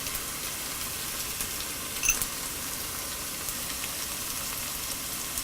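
Onion, garlic and ginger sautéing in a pan for chicken hariyali give a faint, steady sizzle with one soft click partway through.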